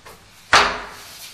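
An oak interior door in a modern townhouse slams once with a sharp, loud bang that rings and fades over the following second, with no other sound around it.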